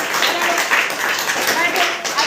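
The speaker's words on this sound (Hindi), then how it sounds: "साक्षी के लिए ताली बजा दीजिए सब।" Students in a classroom clap together for a classmate, a steady wash of many hands blending into continuous noise, with voices mixed in throughout.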